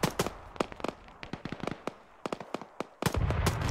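A frag grenade goes off close by in the ShackTac Arma military game, a heavy blast amid a run of sharp pops and distant shots, ending in a loud rumbling burst.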